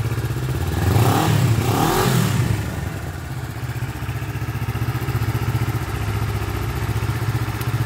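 A Kawasaki ER-6N motorcycle engine is revved up twice in quick succession at close range, then settles into a steady, throbbing idle.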